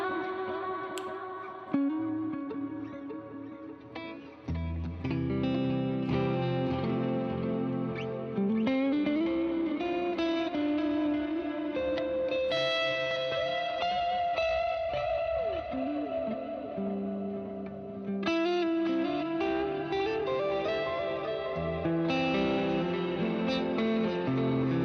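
Electric guitar played through heavy reverb and effects, sustained washy chords and bending notes blurring into a continuous ambient swell with echoing tails, loud and close throughout.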